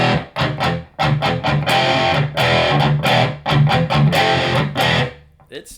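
Crunchy, distorted electric guitar chords strummed through the crunch channel of a Laney IRT 30 amp, loud and close, with choppy rhythmic stops before a final fading ring.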